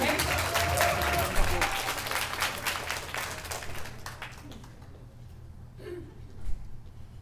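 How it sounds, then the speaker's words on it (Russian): Applause from an audience at a youth event rises loudly at first with a low hum beneath, then thins out and fades, leaving scattered claps and a few voices. "Аплодисменты."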